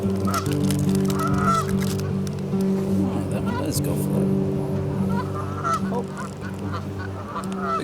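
Several geese honk loudly and repeatedly close by at the water's edge, overlapping calls mixed with a person talking.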